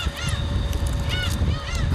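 Seagulls call over the sea off Ulleungdo beside a shrimp-fishing boat, giving several short, rising and falling squawks in quick succession. Wind and boat noise rumble underneath, with no voices.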